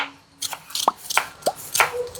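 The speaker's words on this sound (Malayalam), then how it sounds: "കുറച്ച് സാധനങ്ങൾ അരിയാണ്ട്" Knife chopping ingredients on a cutting board for a Thrissur-style sardine and Chinese potato curry, about five sharp, separate knocks in an irregular rhythm, close and clear with no talk.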